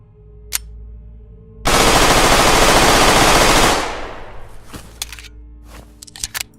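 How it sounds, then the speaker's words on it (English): A G18C automatic pistol in the shooter game Dead Matter fires one long, loud full-auto burst of about two seconds, then tails off into fainter scattered clicks and shots. "The G18C, a rare, late-game weapon that must be looted from a bunker. The rate of fire on this thing is downright scary."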